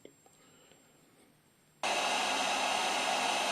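A click, then a loud steady blowing roar of a heat gun on its first speed starts abruptly and runs continuously at an even pitch.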